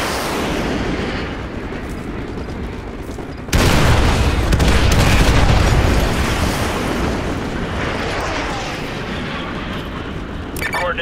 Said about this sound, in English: Use your laser designator to call in artillery on those vehicles.